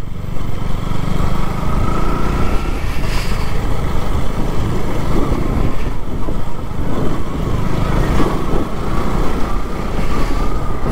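A motorbike engine drones steadily and loud, close up throughout, as the bike rides slowly along a muddy rural road beside fields on a solo Sunday ride.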